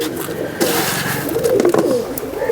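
Pet pigeons coo nearby in a loft around feeding time, soft throaty rolling calls overlapping in a few short bursts, with faint chirps and rustling in the background.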